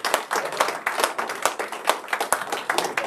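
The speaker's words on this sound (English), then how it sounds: "let's give the two speakers another big round of applause." Audience applause for two speakers at a talk on the Philhellenic movement and Greek independence, with loud, close, sharp clapping in a fairly small group and individual claps standing out in a quick uneven rhythm.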